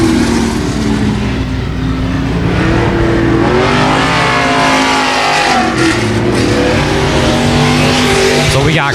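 Race cars roar loudly and continuously around a sloppy, tacky dirt speedway oval at night, engines revving and droning throughout, with a crowd-like wash behind and a race announcer talking over the racing.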